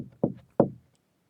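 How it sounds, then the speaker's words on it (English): Two firm knocks on a door, spaced about a third of a second apart, each a dull close thud that dies away quickly, with silence afterward and no talking. "Somebody is knocking on a door. It might sound like this."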